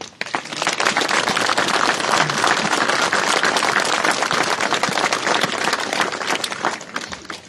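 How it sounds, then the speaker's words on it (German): Loud, dense crowd applause at a farmers' demonstration in Daun, Rhineland-Palatinate, a close and steady roar of many hands clapping that holds for several seconds before easing slightly. "Darüber können wir jetzt mal einen großen Applaus geben."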